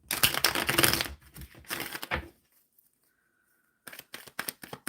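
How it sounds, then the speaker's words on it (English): Tarot cards being shuffled in quick bursts of crisp riffling and slapping, close and fairly loud, with a pause of near silence before another flurry of card clatter. "Let me just give it another shuffle."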